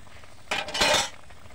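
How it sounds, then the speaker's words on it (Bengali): A spoon scrapes and clinks around a cooking pot of vegetable curry with ground cumin and coriander, a short burst of metallic stirring rising out of quiet background and fading after about half a second. "এখন নাড়ি চাড়িয়ে নেব।"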